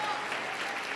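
Church conference audience applauding, a steady, dense wash of clapping from a large crowd that fills the short moment evenly, with a voice faintly underneath.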